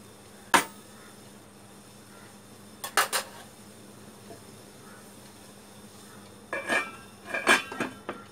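Metal lid set on a pan of dry prawns cooking, a few sharp clanks and clinks scattered over a faint low hum, close with no talk.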